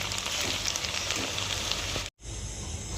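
Egg lollipops frying in hot oil give a steady, dense sizzle and crackle close by, broken by a brief silent gap before the frying hiss resumes.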